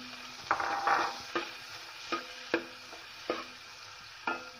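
Sliced onions cook in a hot uruli pan for kappa biriyani. A ladle scrapes through them in about six steady, spaced strokes over a low, quiet sizzle, with no talking.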